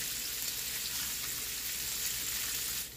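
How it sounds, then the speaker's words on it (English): Sausages fry until brown in avocado oil for a cabbage and sausage dish, a steady, close crackling sizzle that holds evenly for the whole stretch with no voices. "I'm gonna let this fry. Until they turn brown."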